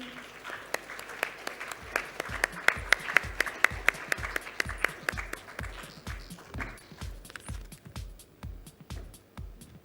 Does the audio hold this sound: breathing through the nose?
no